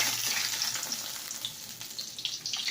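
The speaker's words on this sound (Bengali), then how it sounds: "যাই হোক একটু ভাজাটা হোক।" Fish fries in hot oil with a continuous, fairly loud crackling sizzle and small bursts of spitting, heard alone without voices.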